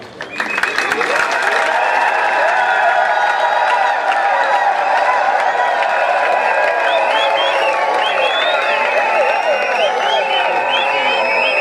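A large crowd at a UDPS political rally applauds and cheers steadily, dense clapping with whoops and scattered shouts sustained at full loudness throughout.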